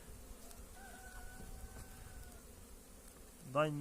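Honeybees in a hive during spring colony work hum steadily at a low, faint level throughout, with a short louder burst near the end.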